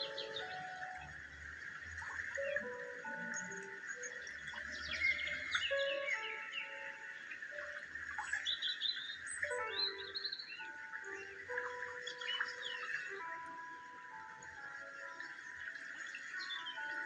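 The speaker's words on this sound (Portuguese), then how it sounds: "Eu tô até colocando aqui o, o som dos passarinhos" Recorded birdsong played back as a relaxing soundscape, with several small birds chirping and trilling in overlapping phrases over a steady background hum, continuous and moderately close, no talking.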